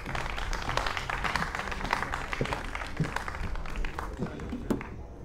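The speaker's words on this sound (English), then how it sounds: "Ladies and gentlemen, another round of applause for our lovely principal as she takes the stage." Audience applause at a school awards ceremony as the principal takes the stage, a steady patter of many hands clapping throughout at moderate distance, with some voices mixed in.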